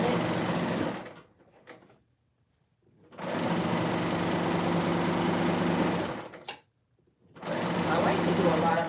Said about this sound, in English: So I'm going to go ahead and serge all the way around that curved hem while I'm at it.